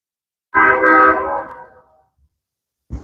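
A train horn sounds once, loud and close, holding for about a second before fading out, with a brief low rumble starting at the very end.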